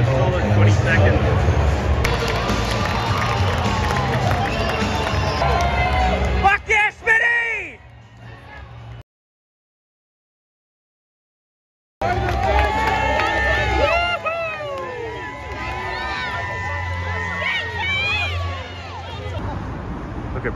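Stadium crowd at a State of Origin rugby league match, Queensland Maroons against New South Wales, roars and whoops loudly with shouting voices. A few seconds of silence break the sound midway before the cheering resumes.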